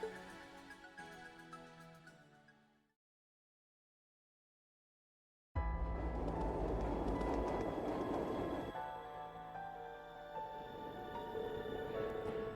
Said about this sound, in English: the train came at the perfect time